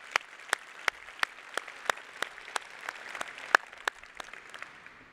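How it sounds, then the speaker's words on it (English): Scattered clapping for breakfast wait staff at a port event, sharp individual claps over a soft bed of quieter applause, fairly faint and distant. "Give them applause."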